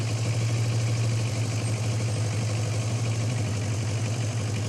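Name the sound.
motorcycle engine idling after oil change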